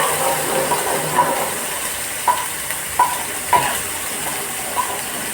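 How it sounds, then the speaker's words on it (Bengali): Onion, garlic, ginger and green chilli paste frying in hot oil for a Bengali doi katla fish curry, a steady close sizzle with a few sharp stirring clinks and scrapes scattered throughout, no voices. "এরপর তেলের মধ্যে ওই পেঁয়াজ রসুন আর লঙ্কা বাটাটাকে ভালো করে সাঁতলে নিতে হবে।"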